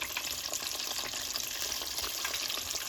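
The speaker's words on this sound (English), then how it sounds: "While the chicken is frying" Steady, dense sizzle of chicken thighs frying in a pan, close by and continuous, with fine crackling spatter throughout.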